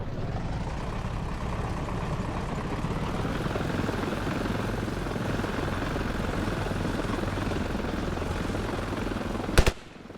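Helicopter in the video game Ravenfield, a steady loud rotor and engine drone holding throughout with no talk, ending in a single sharp burst just before it cuts out.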